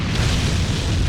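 A deep, heavy explosion boom from the visual novel Tsukihime rumbles loud and sustained, a dense low roar filling the whole moment with no voices.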